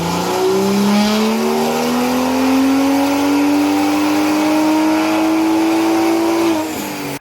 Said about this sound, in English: I put my car, this M235i, on the dyno.